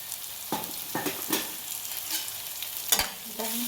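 Garam masala and turmeric are stirred and fried in a pan for a clam masala. A spoon scrapes in several short strokes over a soft, continuous sizzle, close and with no talking.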